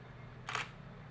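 Nikon D3300 DSLR shutter firing once at 1/640 second, a single crisp, short click standing alone over faint room hiss.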